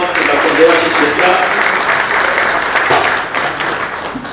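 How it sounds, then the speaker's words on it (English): Steady, sustained applause from a seminar audience filling the room, many hands clapping together at a constant loud level throughout. "A big round of applause to Dr. Devashish Mitra."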